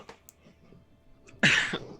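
A single sharp cough bursts out near the end after quiet, faint rustling; loud and close.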